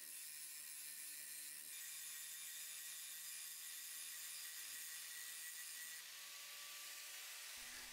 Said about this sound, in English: Now it's about cleaning all the welds.